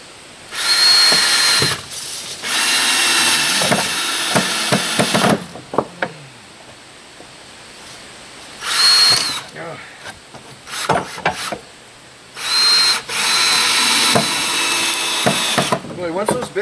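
Power drill driving into wood framing for tiny home walls, loud repeated bursts of high whining drive separated by pauses and clicks, with faint talk between bursts.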